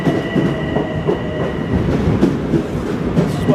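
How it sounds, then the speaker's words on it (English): Long Island Rail Road commuter train on the Huntington branch pulling into a station, a loud, steady rumble of wheels and railcars with rhythmic clatter as it arrives. "So the train comes, and of course there's people standing, and it's crowded."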